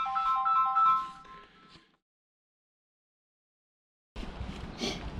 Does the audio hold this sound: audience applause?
no